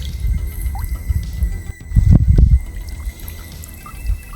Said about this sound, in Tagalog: bumuga pa ng tubig